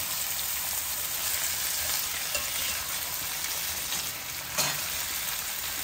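Large prawns frying in hot oil for a couple of minutes as they curl up, a steady, dense sizzle that holds throughout with a brief stir near the end, no voices.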